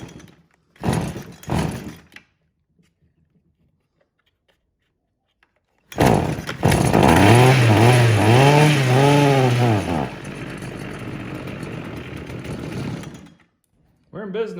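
A weed eater on full choke comes to life after some pull-cord handling and a quiet pause. It then roars close and loud, revving up and down in several surges before easing to a steady lower buzz and cutting off.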